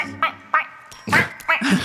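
A man imitates a duck with a string of nasal, squawking quacks, four or five short bursts in quick, uneven succession, close and fairly loud.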